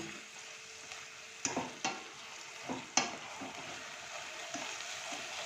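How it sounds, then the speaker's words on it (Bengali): Spice masala for a mutton curry sautéing in a pan, a quiet steady sizzle with a few louder knocks and scrapes from the stirring spoon, and no voices. "এবার এই মশলাটাকে ভালো করে কষিয়ে নেব।"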